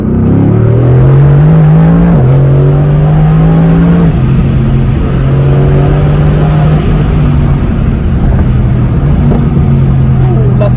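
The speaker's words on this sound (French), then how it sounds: "Je vais vous faire un autre 0 à 70 pour que vous puissiez voir le drame." A 2020 Mercedes GT-R with a 577 hp engine accelerates hard from 0 to 70, its loud, close engine note rising in pitch through each gear, with brief dips at the shifts, throughout the run.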